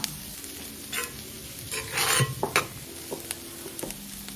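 A spoon or ladle stirs soft, mushy moong dal khichdi with red chili powder, goda masala and salt in a pot, giving scattered scraping and squelching strokes over a faint sizzle, close and moderately quiet.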